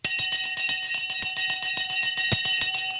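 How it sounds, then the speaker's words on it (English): A stock market opening bell rings in a rapid, loud train of metallic strikes, continuing steadily for about three seconds with no voices. "The bell has gone."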